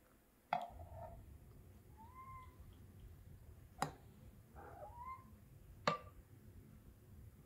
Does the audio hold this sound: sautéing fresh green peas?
no